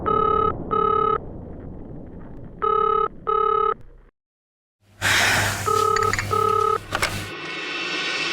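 A telephone rings in repeated double bursts of an electronic bell tone, loud and close, with a short silence before the ringing resumes over a louder background.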